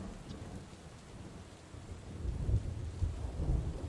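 Thunderstorm ambience for a tabletop role-playing session, a hiss of steady rain over low thunder rumbles that swell louder in the second half, with no talking.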